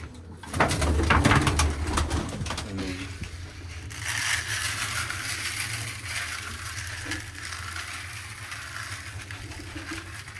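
Pigeons coo steadily, with soft pecking and scratching noises and occasional wing flutters close by.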